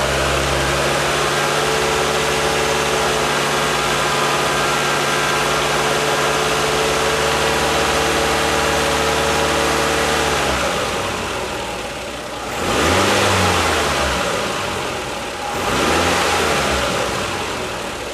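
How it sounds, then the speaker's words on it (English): A car with just over 100,000 miles runs steadily at a close, loud idle, its engine tone holding even before it revs up twice in quick swells and then settles back down. "Here's a little video of this car running."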